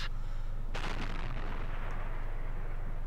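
A heavy E-100 tank in World of Tanks fires a HEAT shell: one loud booming cannon blast with a sharp crack, followed by a rumbling tail that fades over a low constant engine drone, no voices.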